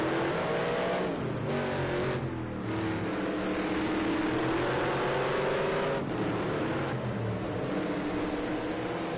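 Race cars roar past during a street race at Long Beach, California, with a loud, continuous engine drone whose pitch rises and falls as the cars accelerate and overtake, close and steady throughout.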